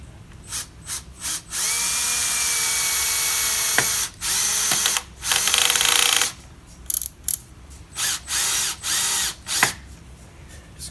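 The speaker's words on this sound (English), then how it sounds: "you just use your drill with your Phillips head driver" A power drill with a Phillips head driver whirs in several bursts, with one longer sustained run as a wood screw is driven in to fasten a hose clamp, plus short clicks and rattles between.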